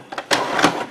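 A Canon TS series inkjet printer fitted with a CIS ink system runs nearby with its lid slightly open, giving short clicks and mechanical whirring bursts close up, with no talking.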